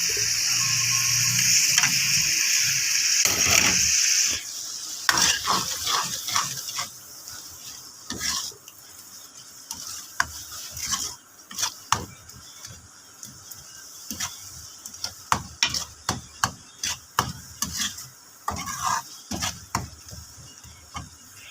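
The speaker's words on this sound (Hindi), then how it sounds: "अब मैं इसमें डाल रही हूँ ये मसाले।" Spices tipped into a pan of onions and potatoes for aloo bhurji, first a loud steady sizzle, then repeated sharp scrapes and clacks of a spoon stirring against the pan over a faint frying hiss.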